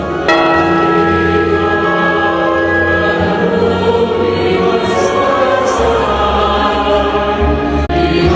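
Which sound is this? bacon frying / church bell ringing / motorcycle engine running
church bell ringing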